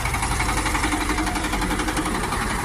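A freshly assembled Shifeng SF-354 mini tractor engine runs steadily close by, giving a loud, continuous mechanical drone with a rapid knocking, diesel-like pulse throughout.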